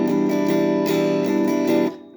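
Acoustic guitar strummed in a steady 6/8 pattern for a rhythm study, the chord ringing evenly with soft recurring accents before cutting off abruptly at the end.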